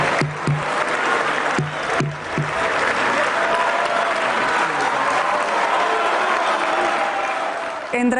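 Loud sustained applause fills the French National Assembly as Manuel Valls leaves his seat, a dense crowd clatter with a few sharper knocks early on. Voices are faint beneath it, and no clear booing stands out.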